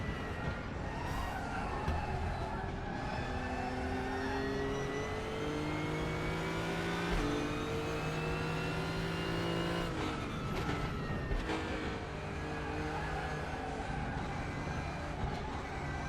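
Nissan GTR GT3 race car in RaceRoom at Watkins Glen, its engine droning steadily with rising and falling revs as gears shift. The onboard sound holds at a moderate level with no voices.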